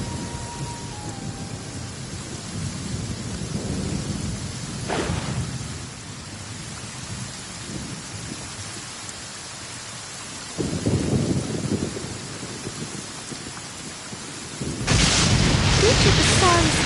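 Heavy rain pours steadily in Genshin Impact while thunder rumbles several times, including a sharp crack midway and a loud, close burst near the end, with a voice speaking early on over the storm.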